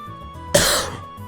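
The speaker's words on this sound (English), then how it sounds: "I hope that's not permanent, this cough of mine." A single abrupt, harsh cough bursts out close to the mic and fades over about half a second, with quiet on either side.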